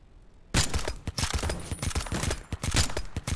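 Gunshots in the Start Over game come as a sudden close burst and then continue as irregular rapid cracks, some loud and some softer, over a quiet background.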